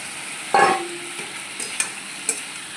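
Pointed gourd dropped into hot oil with spices gives a sudden loud sizzle that fades into a quieter frying hiss, followed by a few light clinks and stirs nearby.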